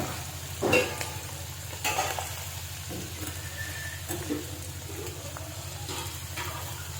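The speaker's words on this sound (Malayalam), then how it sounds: "ചിക്കൻ്റെ ലിവർ ഇട്ട് കൊടുത്ത് വറുത്തെടുക്കണം എണ്ണ ചൂടായി കഴിഞ്ഞു" Chicken liver pieces frying in hot oil, a steady crackling sizzle with a few louder pops and spatters near the start, close and continuous with no talking.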